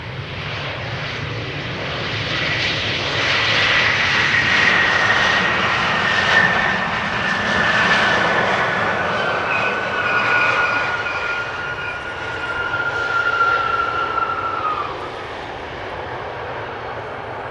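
KLM Embraer jet arriving at Amsterdam Schiphol Airport, its engines roaring steadily and fairly loud for the whole stretch, with a drawn-out whining tone that rises and fades as the aircraft passes.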